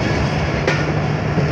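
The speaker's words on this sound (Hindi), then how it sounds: "आवाज़ तो आ रही है जैसे कोई लोकोमोटिव भी आ रहा हो" A locomotive runs along a railway line near Rohri Junction in thick smog, giving a steady, loud broadband rumble that holds for the whole stretch, with a brief brighter burst midway.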